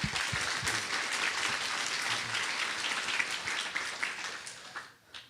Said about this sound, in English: So I'd like to acknowledge them again and give them a round of applause